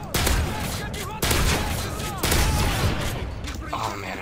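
Gunfire in the video game Call of Duty: MW3 comes as three loud, heavy blasts about a second apart, each followed by a rumbling, crackling decay. Faint background noise continues between the shots.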